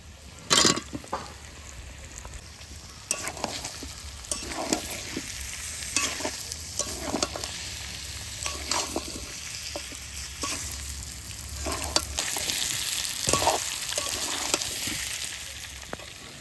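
Potatoes added to a pan with braised goat meat fry and get stirred, a quiet sizzle broken by repeated spatula scrapes and clinks, swelling louder toward the end, no speech.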